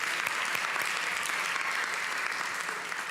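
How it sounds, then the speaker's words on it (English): An audience applauds after a conference session presentation, a continuous, even round of clapping at steady moderate loudness from start to finish. "Let's give them one round of applause for their great presentation."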